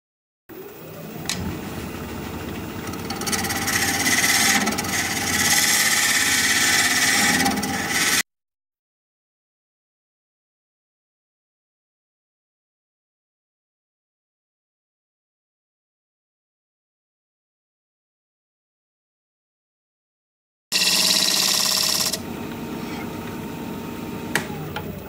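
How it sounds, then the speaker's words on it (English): A wood lathe spins as a tool scrapes the inside of a pedestal bowl, making a loud, close, continuous rough rubbing. The sound runs for about eight seconds, drops to silence, and returns briefly near the end. "I've been scraping my way down as I go, and I've just finished up the bottom in that bottom corner"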